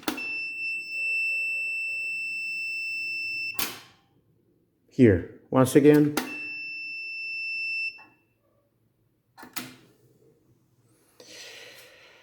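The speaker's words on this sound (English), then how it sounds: "Once I press fully the accelerator, the sensor must start beeping." A steady high electronic beep from a sensor on a Mercedes KE-Jetronic fuel-injection system at full accelerator sounds for several seconds, cuts off, someone speaks briefly, then the continuous beep returns before fading to quiet.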